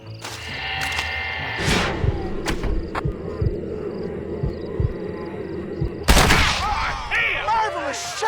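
Gunfire during a shootout in the Red Dead Redemption game: a steady string of loud rifle shots, then a heavier burst near the end, with voices speaking over the fight.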